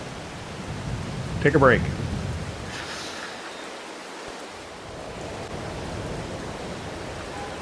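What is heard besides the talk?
rain in Farming Simulator 22 video game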